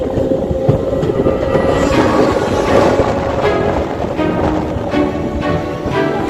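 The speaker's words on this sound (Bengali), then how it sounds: "চলেছি মহানন্দা ওয়াইল্ড লাইফ স্যাংচুয়ারির ভেতর দিয়ে রেলপথ করে" A train runs along the railway through Mahananda Wildlife Sanctuary in the Dooars hills, a steady, loud rumble with rhythmic wheel clatter and rattling carriages throughout, no voices.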